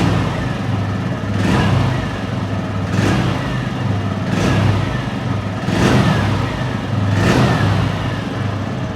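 A TVS Radeon motorcycle engine idles with a throaty rumble and is revved five times in a steady rhythm, each rev rising and falling back, close and loud.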